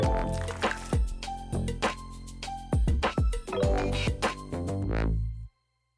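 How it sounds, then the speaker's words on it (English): Milk is poured into soft cooked rice for rice pudding, giving close, loud liquid glugs and splashes in irregular bursts before stopping abruptly. "I'm going to pour in the milk."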